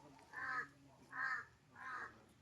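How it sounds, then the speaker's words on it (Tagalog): A crow caws three times at an even pace on a flat farm lot in Laguna, Philippines, each call harsh and somewhat distant, with quiet background between them. "Ayan o, si kaibigang uwak."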